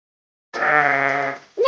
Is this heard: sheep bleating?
yes